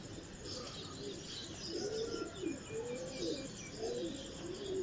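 Pigeons coo in soft, low, rolling phrases repeated several times at moderate distance, with faint chirps and light outdoor background noise and no talking.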